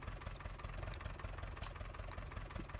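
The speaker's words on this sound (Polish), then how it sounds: "Tylko odpalę silnik." A tractor engine in Farming Simulator 19 runs with a steady, loud low rumble and a continuous knocking idle throughout, with no voices.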